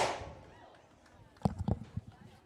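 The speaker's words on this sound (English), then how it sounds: "Heard a loud aluminum thud, so nobody took it off the noggin." A foul baseball at a high school game between Spain Park and Briarwood Christian strikes aluminum bleachers, a sharp metallic bang followed by a brief rattling clatter, heard from a distance over crowd murmur.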